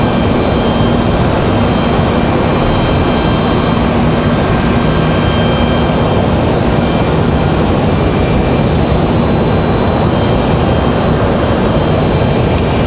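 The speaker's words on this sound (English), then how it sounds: "It's going to be an E170 coming in from Philadelphia." Republic Airways Embraer E170 regional jet arriving at Raleigh-Durham International Airport from Philadelphia, a loud, steady jet roar with high engine whine that holds throughout with no voices.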